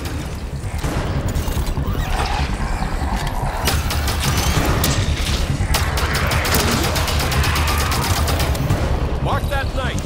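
Heavy gunfire rattles through a shooter video game, with dense bursts of automatic fire and booming impacts that go on almost without pause, loud and close, while voices speak underneath.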